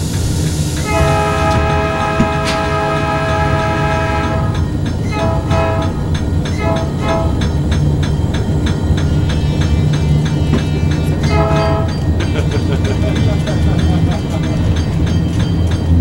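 A farewell excursion train rolls over the Kewaunee, Green Bay & Western rails between Kewaunee and Green Bay, with a steady rumble and clickety-clack under repeated loud horn blasts nearby.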